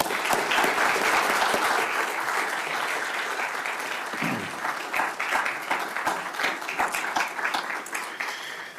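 An audience applauds as Attorney General William Barr is welcomed at the Gerald R. Ford Presidential setting, a dense, sustained wash of clapping that slowly thins into scattered claps.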